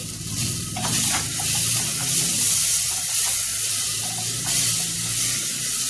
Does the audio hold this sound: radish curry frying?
yes